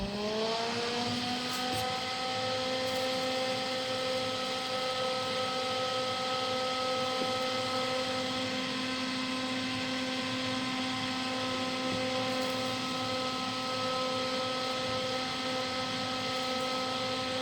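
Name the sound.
12V DC exhaust cooling fan running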